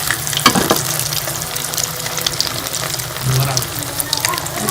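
Egg and potato cutlets fry in hot oil with a steady, dense sizzle and crackle that holds throughout, briefly swelling in places, with no one speaking.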